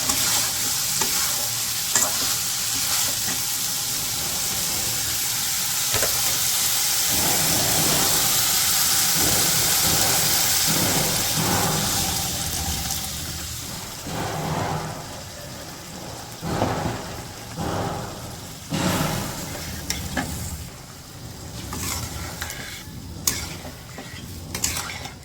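Fish curry in a village kitchen pan, first with a loud steady sizzle, then broth poured in and the mixture stirred, giving bubbling and scattered scraping clacks from a utensil.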